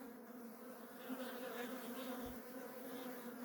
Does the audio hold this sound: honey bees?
yes